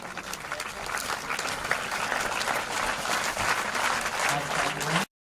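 A crowd at an inauguration ceremony for a newly built campus claps steadily, dense applause from many people at middle distance, ending abruptly.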